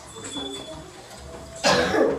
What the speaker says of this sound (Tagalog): Uli lang ba sa akong ubo?